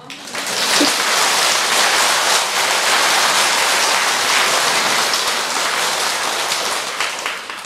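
A large audience claps steadily and densely at a Buddhist Hwaeom dharma assembly at Beomeosa temple, a continuous rain-like wash of hands that holds at an even level for several seconds, then eases slightly at the end.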